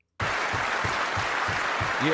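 A debate audience bursts into sustained applause, a steady dense clapping that begins suddenly and continues throughout, with a brief voice emerging near the end.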